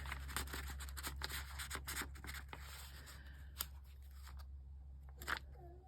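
Scissors snipping through paper while making ephemera from a planner, a run of quick crisp cuts close by, then sparser snips with faint handling rustle between them.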